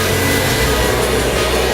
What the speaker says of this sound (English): Turn on our blow dryer.